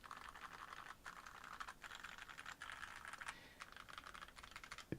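Typing on a rebuilt GMMK2 mechanical keyboard lined with 3M tape gives rapid, close clacking keystrokes in irregular bursts. The typing is fairly quiet and has no speech over it.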